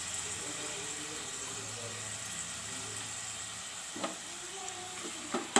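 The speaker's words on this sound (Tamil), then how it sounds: "மஞ்சத்தூளும் சேர்த்திட்டு ஒரு 5 நிமிஷம் நல்லா மட்டனை வதக்கணும்" Mutton and turmeric sauté in a pan with a low, even sizzle, broken by a few soft clinks of stirring near the end.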